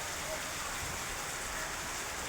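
First monsoon rain of the season falls steadily as a soft, even hiss, fairly faint and continuous, with a voice speaking quietly underneath.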